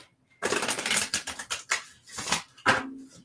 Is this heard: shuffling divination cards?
yes